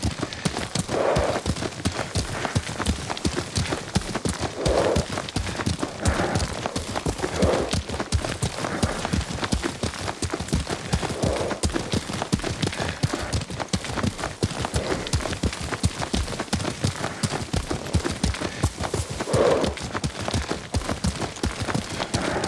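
Horse hooves gallop in fast, continuous clip-clop through a long stretch of Ghost of Tsushima gameplay, with no speech over them.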